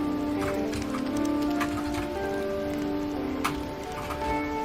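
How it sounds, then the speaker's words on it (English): Torrential rain in a foggy video game world, a steady hiss of downpour with scattered drop-like ticks and a sustained low tonal hum of game ambience beneath. "it starts absolutely pissing a torrential downpour"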